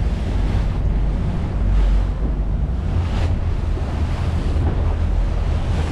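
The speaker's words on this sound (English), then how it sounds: "it's just the way the water is sort of colliding around this headland" Choppy, confused sea around a headland, heard from a small boat: a loud, continuous roar of waves and rushing water, heavy with wind buffeting the microphone, with no voices.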